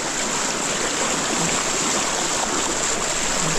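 Strong river current rushing over rocks near Casiguran, a loud, steady broadband roar of water that fills the whole clip without a break and with no voices.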